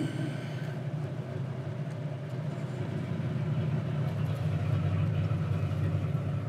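A deep, steady V10 exhaust from an 8-litre Viper engine in a Chevy G20 van rumbles at idle, a low throbbing drone that grows slightly louder partway through.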